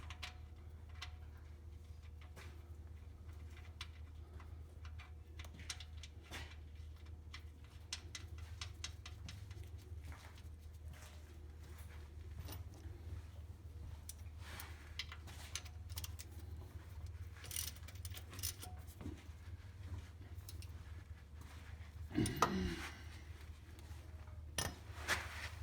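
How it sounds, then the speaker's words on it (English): A metal oil drain plug is handled and threaded back into the oil pan of a Mazda Miata NA, giving a long run of faint, scattered clicks, ticks and small metallic clinks over a low steady hum, with a louder clatter near the end. "now you can go ahead and put the oil drain plug back on"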